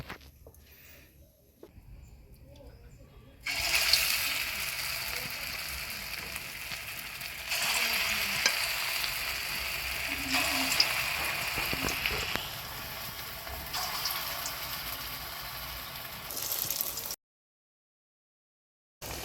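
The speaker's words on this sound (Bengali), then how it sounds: "বড়াগুলো ভালো করে উল্টে পাল্টে ভাজতে হবে, হালকা লাল লাল করে" Carrot fritters fry in plenty of hot mustard oil in a kadai, a loud, dense, rain-like sizzle that starts after a quiet opening, runs steadily for about fourteen seconds, then cuts off.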